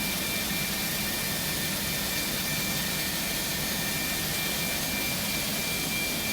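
Airbus A310 jet engine spooling up in a flight simulator during pushback, a steady broadband roar with a faint high whine that holds even and continuous throughout, with no talking.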